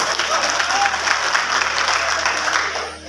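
Loud, sustained applause from a crowd at a Banjara community event in Shahdol division, honoring the village elder; dense steady clapping throughout with faint crowd murmur beneath.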